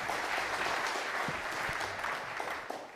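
Audience applause fills a roundtable session on European regulatory issues: dense, steady clapping from a room full of people, holding level throughout and easing slightly toward the end.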